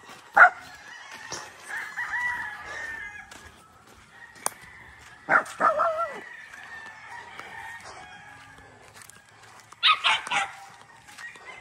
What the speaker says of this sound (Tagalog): Dito naman po tayo sa sisiw na malalaki na po.